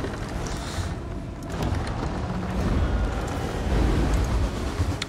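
A ballista shot in Rome Total War 2 lands among a roaring, rumbling battlefield, a loud, dense blast of noise swelling over several seconds with crackling impacts.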